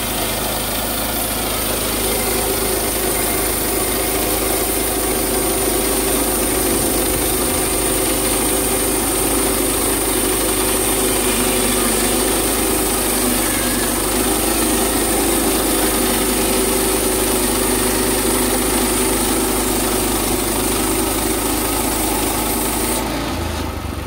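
A Woodland Mills HM122 sawmill runs its engine in a loud, steady drone while the blade cuts through a log, the engine note shifting slightly as it bogs on a knot, with constant high-pitched blade whine over it.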